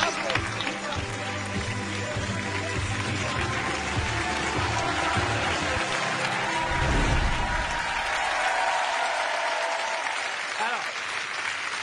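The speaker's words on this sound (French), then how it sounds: "Tout revient d'applaudir Laurie encore une fois" An audience claps loudly and steadily at a staged wedding on a French TV hypnosis show. The dense, continuous applause swells slightly near the middle and rolls on throughout.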